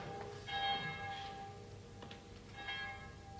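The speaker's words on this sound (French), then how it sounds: "Maudite cloche" Church bell tolling during a stage play, two resonant metallic strikes about two seconds apart, each ringing out with a long humming decay over a soft background.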